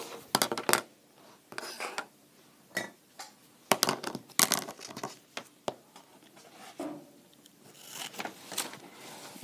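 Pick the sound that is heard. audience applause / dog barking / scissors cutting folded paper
scissors cutting folded paper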